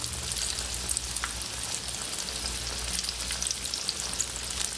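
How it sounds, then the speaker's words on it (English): Battered pickles deep-frying in oil give a dense, even crackling sizzle like steady rain, close and constant with faint pops, no talking. "I'm going to put these in here and fry up the other ones."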